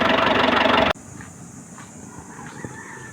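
Ford Explorer 4.0 engine running: a loud, dense engine roar close by for under a second, then it cuts off abruptly, leaving quiet hiss and faint scattered knocks.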